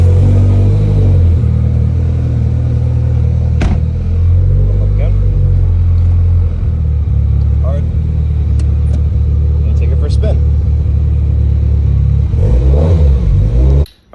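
A car accelerates on a test drive after new brake pads are fitted, with a loud, continuous low engine rumble heard close from inside the cabin and a few light clunks and rattles along the way.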